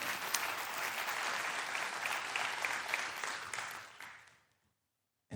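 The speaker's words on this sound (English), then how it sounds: "Could you give both these guys a round of applause?" A church congregation gives a round of applause during a sermon. Dense, steady clapping holds for about four seconds, then tapers off and falls to silence.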